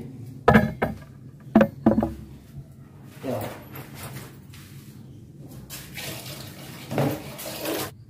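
Tap water running into a container to thin a chemical wall-treatment mix during kitchen and toilet painting in a rowhouse renovation, a steady faint splash with a few sharp knocks near the start.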